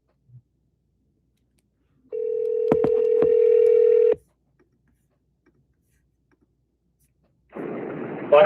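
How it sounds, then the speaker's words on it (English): A single long ring-back tone from a telephone on an outgoing call, steady and clear for about two seconds with faint clicks, then silence before a voice answers near the end. "All right, phone is ringing."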